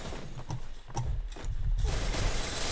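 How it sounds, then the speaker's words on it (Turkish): A Cobra MP40 submachine gun fires in the mobile shooter Free Fire, a few sharp rapid shots over a steady game background, followed by a louder sustained rush of noise, with no talk. "Evet arkadaşlar, sıra geldi silahımızı denemeye."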